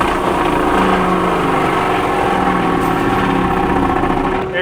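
Skid steer with an industrial mulcher attachment grinding wood, a loud continuous engine drone with a heavy churning roar that holds steady and strains under load.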